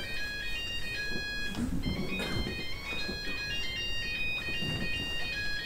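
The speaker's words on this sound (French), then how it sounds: "C'est le portable de Simon" A bright electronic ringtone melody plays steadily throughout, its repeating tones ringing over muffled background movement and low voices.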